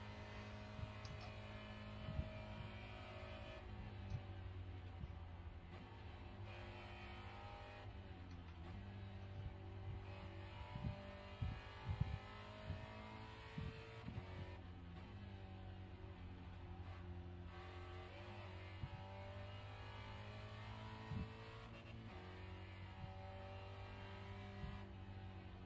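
A race car engine in the iRacing simulator, a steady droning tone with shifting pitch as the car brakes through a set of S-bends, heard alone and fairly quiet.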